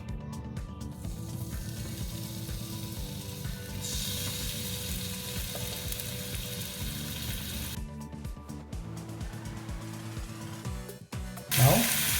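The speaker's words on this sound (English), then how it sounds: "Now let's pan fry our mushroom until it turns out to a nice golden brown" Mushrooms sizzle and crackle in hot olive oil in a frying pan, a steady, close frying hiss lasting about twelve seconds. A brief clatter of stirring or handling near the end briefly rises above it.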